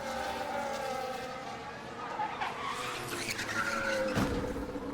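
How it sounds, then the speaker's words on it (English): A 2024 Formula 1 race car skids with squealing tyres and slams into the wall, heard as a distant, fairly faint screech rising to a brief impact near the end, under the hiss of trackside ambience. "That is the sound of Sargent going into the wall."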